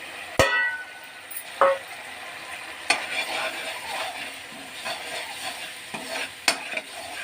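A spoon stirs tamarind, jaggery and spices in a pot for bitter gourd pickle, with scraping and clinks against the metal at irregular intervals over a soft sizzle, close and moderately loud.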